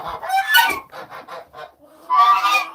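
An agitated goose at a poultry coop lets out harsh, close honks in uneven bursts, a loud cluster, a run of shorter calls, then another strident outburst.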